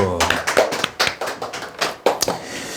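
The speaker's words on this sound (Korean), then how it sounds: "네, 박수." A few people clapping in an irregular, uneven rhythm during a sales coaching talk, close and fairly loud, with scattered separate claps rather than a full ovation.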